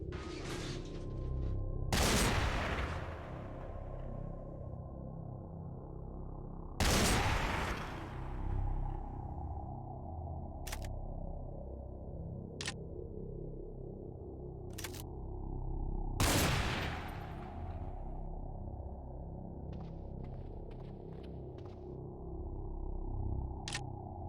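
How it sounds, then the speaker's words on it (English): Shotgun blasts in Cataclysm: Dark Days Ahead, three sharp, widely spaced reports over a steady droning background, each ringing off briefly, with scattered faint clicks between shots. "Pistol's dry, back to the shotgun."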